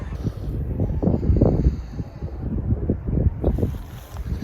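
Breezy warm day outdoors with steady wind buffeting the microphone in gusts, a broad rushing roar with no voices present.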